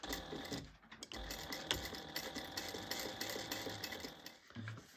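A sewing machine bastes fabric for a cut-and-sew bag, running in a steady, close, fast stitching whir for the full five seconds with only brief dips in pace.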